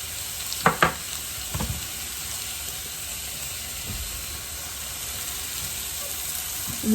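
Tomatoes seasoned with salt, pepper, Italian seasoning and olive oil sizzle steadily in a pan, a constant hiss with a few brief clinks and stirring knocks near the start, no talking.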